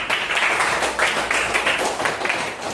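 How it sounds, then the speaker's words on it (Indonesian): A classroom gives a short burst of applause for students who answered, many hands clapping close and dense for a few seconds. "Aplaus dulu buat teman kita yang pada jawab."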